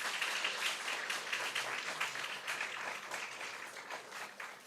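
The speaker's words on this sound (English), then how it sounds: "I request you all to welcome them with big round of applause" A lecture audience gives a steady round of applause to welcome the speakers, dense and fairly distant, with the clapping gradually thinning toward the end.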